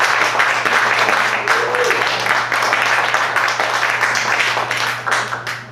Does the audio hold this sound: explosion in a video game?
no